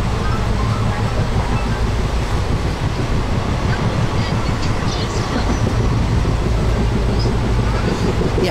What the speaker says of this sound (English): I'm enjoying the train ride, actually